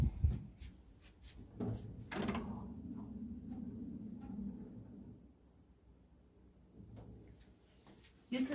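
A hotel delivery robot's drawer opens with a few clicks and knocks, then a mechanical sliding whir, fairly quiet and close in a room, followed by more clicks and a louder thump at the end.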